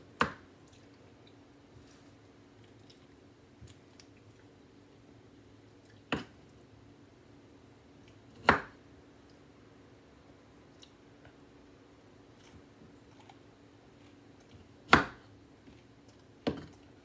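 A kitchen knife cuts broccoli into florets on a board at home, producing a handful of isolated crisp snaps and chops spaced several seconds apart over quiet room hum.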